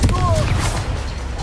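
A Confringo fire spell bursts in Hogwarts Legacy, a loud, dense explosive crackle and rumble filling the moment amid chaotic combat noise, with a voice shouting over it.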